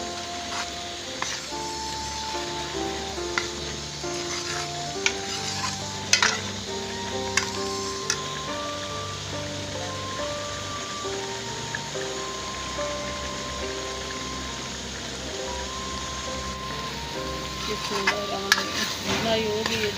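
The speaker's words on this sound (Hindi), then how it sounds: "तो अच्छी तरह भुनाई हो जाएगी।" Red kidney bean curry masala sizzles steadily as it is stir-fried in a pan, with occasional scrapes and stirring clinks over a soft background tune.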